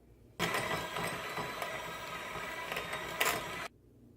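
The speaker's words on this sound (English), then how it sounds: "take my handheld mixer and cream this up real quick" A handheld electric mixer creams cream cheese in a bowl, a steady close whirring buzz that starts abruptly, runs for about three seconds and cuts off sharply.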